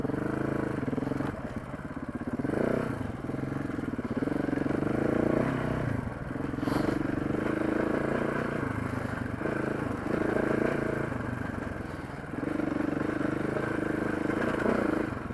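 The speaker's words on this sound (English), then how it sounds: "I can hear his bike." A KTM 690 or Husqvarna 701 single-cylinder dual-sport motorcycle draws near, its engine note rising and falling through steady mid-range throttle with some clatter and rattle, and no talk over it.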